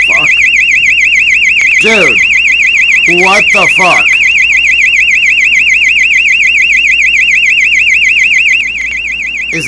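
A loud warbling alarm tone wails continuously from a camera feed at Tel Aviv airport, a piercing oscillating siren running the whole time while a voice exclaims over it.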